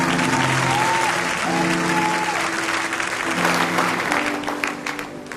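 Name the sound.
church congregation applauding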